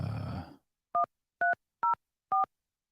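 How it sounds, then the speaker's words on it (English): A phone keypad is dialed, giving four short, evenly spaced electronic tone beeps after a brief burst of noise, each beep crisp and alone against silence. "This show feels so professional when I dial, like that beeping sound."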